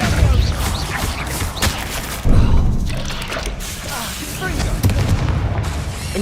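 In the Hogwarts Legacy video game, a Repulsor spell goes off as a loud thudding blast near the middle, among several lighter thumps and pops in a busy, rumbling battle mix.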